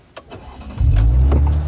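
A sports car sound effect, played as a livestream gift, opens with a short click, then a loud engine rumble starts and holds strong for the last second.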